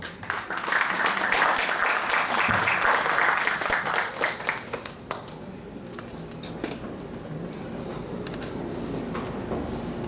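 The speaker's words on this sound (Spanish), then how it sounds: "Damos con fuertes aplausos al doctor Luis Alberto Lamas Puccio" Loud, sustained audience applause fills a hall at an academic year opening ceremony, welcoming a doctor to the stage, then tapers off into scattered claps and room murmur.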